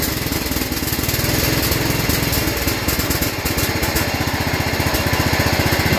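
A Simplicity lawn mower engine runs loud and close with a rapid, steady single-cylinder putter and a rough, uneven stretch midway, with no talk.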